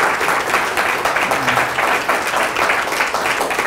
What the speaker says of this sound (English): So I think this is an appropriate time to give them a round of applause.